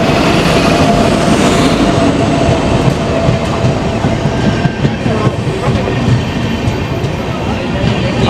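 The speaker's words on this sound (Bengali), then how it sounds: "সেই নর্থ ইস্ট সুপার এক্সপ্রেস ঢুকে গেছে, দেখতে পাচ্ছেন।" North East Superfast Express pulling into a station, a loud steady rumble of rail cars with rhythmic wheel clatter over the track, continuous throughout with faint platform background.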